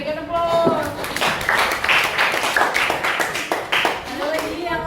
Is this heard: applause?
yes